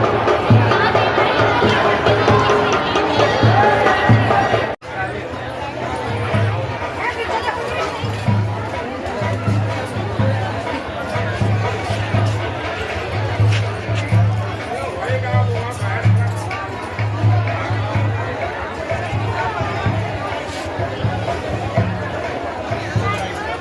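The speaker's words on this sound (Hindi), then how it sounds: "बहुत भीड़ लगी है" A dense crowd packs Khaira Bhawani Mata temple in Gonda on the second day of gatherings, with loud continuous chatter and babble of many voices close around, a brief dropout partway through.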